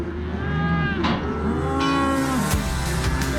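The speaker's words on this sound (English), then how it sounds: "There's a whole lot of cows." Cattle lowing on a farm where cows' overgrown feet are being trimmed, several deep, drawn-out moos overlapping at close range over steady background noise.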